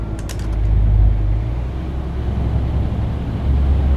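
Wind noise and a low engine rumble inside a Neoplan City bus in Euro Truck Simulator 2, a steady deep drone heard alone with a brief airy rush near the start.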